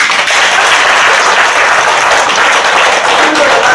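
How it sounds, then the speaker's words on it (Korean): Audience applause at a Korean book launch concert for a short story collection, a dense, steady wash of many hands clapping at close range, loud and continuous throughout. "박수 한번 보내겠습니다"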